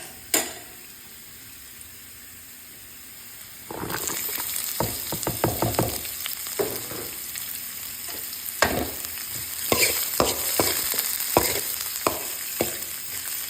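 Onion goes into hot oil already holding garlic and ginger in a pan. After a near-silent start, a bright sizzle bursts up and continues, with frequent sharp clicks and scrapes from stirring up close.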